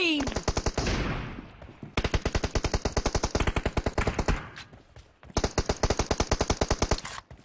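Rapid automatic gunfire in PUBG Mobile team deathmatch rattles out in three long, loud, close bursts of evenly spaced shots, with brief gaps between them.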